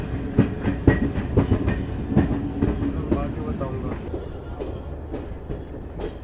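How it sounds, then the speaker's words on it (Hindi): A WDP-3A Alco diesel locomotive rolls into Moradabad station after waiting at the home signal, its wheels clattering in a steady clickety-clack rhythm over rail joints close by, the rumble easing toward the end. "ये एक एल्को लोकोमोटिव है"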